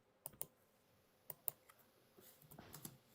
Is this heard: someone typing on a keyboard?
yes